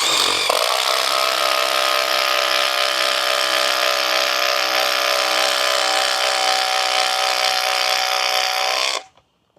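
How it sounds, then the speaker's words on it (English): A Milwaukee impact driver drives a screw through a wooden stud, a loud, steady high-pitched whir with rapid hammering that runs unbroken for about nine seconds, close to the microphone, then cuts off abruptly. "these are used to go through studs, you know, things like that. So we got the impact here."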